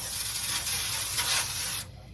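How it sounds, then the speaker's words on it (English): A short, steady hiss of cooking spray onto a baking pan lasting nearly two seconds, then cutting off abruptly into quiet. "spray the baking pan"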